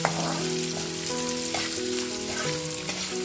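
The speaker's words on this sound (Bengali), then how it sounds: "এই দেখো গোবিন্দভোগ চালটা দেখো কি সুন্দর ভাজা হয়ে গেছে" Gobindobhog rice fries in oil in a pan, giving a steady close sizzle and crackle, with a few light stirring scrapes and no talking.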